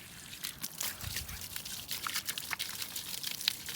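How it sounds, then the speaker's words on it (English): Running water trickles and splashes continuously over a ceramic-coated car wheel with faint brush scrubbing strokes, close by and steady, no voices. "So all I'm gonna do is wet it and brush it."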